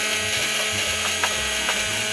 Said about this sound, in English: On goes the motor.